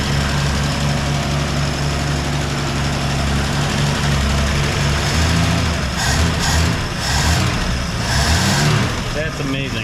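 A 1965 Ford Falcon engine idles steadily with a low, rumbling hum after a fuel pump repair, running continuously at close range while people talk over it.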